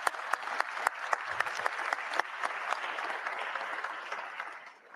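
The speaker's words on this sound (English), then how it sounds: "the applause says it all" Audience applause at a law students' moot court competition, a few sharp individual claps at first that swell into steady, even clapping from a large room before slowly tapering away.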